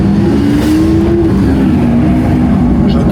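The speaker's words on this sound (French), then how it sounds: "Alors ce bruit de V12 est assourdissant." A V12 car engine roars loud and continuous at close range, a deep sustained drone with a slight pitch sweep.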